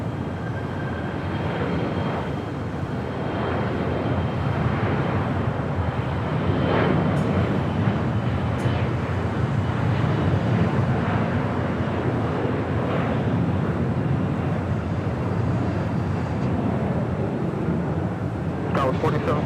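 United Airlines Boeing 737-900ER jet at Los Angeles International Airport, a steady broadband engine roar that holds for the whole stretch with wind buffeting, while a voice talks over it.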